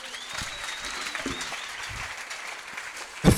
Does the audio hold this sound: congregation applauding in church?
yes